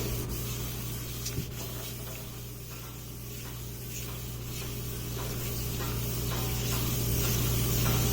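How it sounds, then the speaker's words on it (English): Steady wet rubbing and scraping of 600 grit wet/dry sandpaper, wetted with WD-40, in repeated strokes on a Suzuki B100P motorcycle part, over a constant low electrical hum, close by, with no talking. "This is 600 grit, wet dry"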